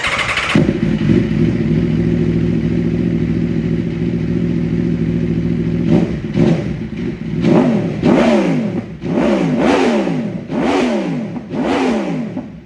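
A 2026 Aprilia Tuono V4 motorcycle fitted with a LeoVince aftermarket exhaust idles steadily up close, then snaps through a series of sharp, loud revs, about six rising-and-falling blips in quick succession.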